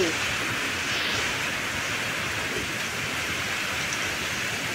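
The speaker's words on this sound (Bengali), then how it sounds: "এত জোরে জোরে ঝাপটা ঝাপটা হয়ে বৃষ্টি হচ্ছিল" Heavy rain lashing down during Cyclone Remal, a dense, steady roar of downpour filling the whole span, loud and unbroken with no talk.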